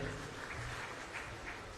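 Audience applause at a Shrimad Bhagavat Saptah religious gathering, a steady dense wash of clapping running through the whole short stretch without a break.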